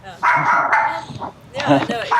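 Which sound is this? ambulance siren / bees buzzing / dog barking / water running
dog barking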